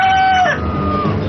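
A rooster crows once, loud and close, its long call rising and then falling away over a woodland home setting.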